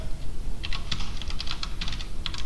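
Python code typed on a computer keyboard in a programming class comes as quick clusters of crisp keystrokes over a low steady background hum.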